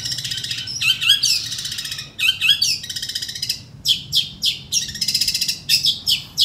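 A long-tailed shrike sings loudly and close by in repeated bursts of chattering, rasping notes separated by brief pauses.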